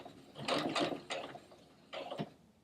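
A sewing machine back-stitching over a hole in a pair of pants, with several short bursts of rapid mechanical whirring and pauses between them, close and quiet.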